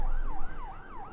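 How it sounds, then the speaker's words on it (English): A wailing siren draws closer, sweeping up and down in steady repeating cycles, loud and continuous, with a low rumble of traffic beneath it. "you can hear the sirens are now even closer."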